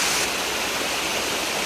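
A natural limestone waterfall in Tibiao, Antique, Philippines pours in a dense, steady, close rushing roar of falling water, loud and unbroken, with no voices.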